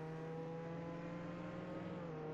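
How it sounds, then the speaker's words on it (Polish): A car engine in the Roblox video game drones loudly and continuously, a steady synthetic hum with layered tones whose pitch dips slightly near the end, with no voices over it. "Ale głośno to trochę, to auto."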